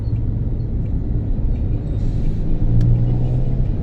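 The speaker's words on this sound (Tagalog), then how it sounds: "Grabe ng traffic." Dense engine rumble from heavy city traffic on Makati Avenue, Manila, idling and creeping cars and motorcycles close by, with a low steady drone and a brief rev swelling near the end.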